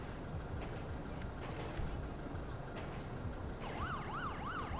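In the video game GTA 5 an ambulance siren wails faintly in the distance, rising into a clear repeating whoop near the end, over a dense bed of traffic and street rumble.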